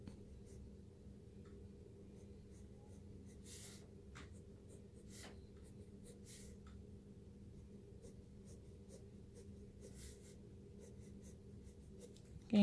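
Pencil strokes on paper while sketching, a string of short, quiet scratchy lines in irregular rhythm over a low steady room hum, with no talking.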